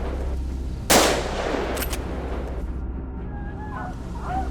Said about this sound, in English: The piercing sound of gunfire filled the air, mixed with the boar's desperate squeals.